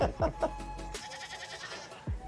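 A goat at a petting zoo bleats several times in quick succession, loud and close, followed by quieter shuffling and a final short bleat.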